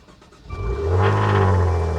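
A car's engine is revved hard in a short burst, the loud exhaust rising into a deep, sustained roar close by.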